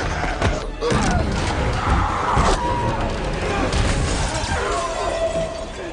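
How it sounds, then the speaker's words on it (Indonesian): Glass shattering in a tense film scene from Maze Runner: The Scorch Trials, a loud burst of breaking and crashing debris amid dense rumbling action noise, with busy clatter continuing throughout. "Brenda membuat Thomas harus memecahkan kaca untuk menyelamatkan si Brenda ini coy."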